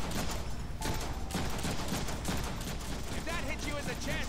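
Gunfire in the Deadpool video game, a rapid, continuous barrage of shots forming a dense, steady roar, with a voice talking over it.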